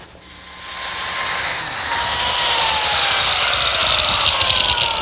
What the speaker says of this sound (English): I'm cutting biscuit slots.